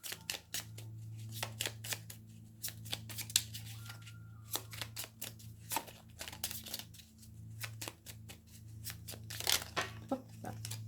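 Oracle cards for a Gaia deck are shuffled and drawn by hand, giving quiet, crisp riffling and flicking bursts in an irregular rhythm against a low steady hum.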